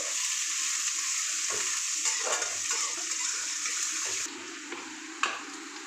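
Onions sizzling and frying in ghee in a pan alongside nigella seeds and green chillies, a steady close crackle with occasional stirring clatter and a sharp tap near the end.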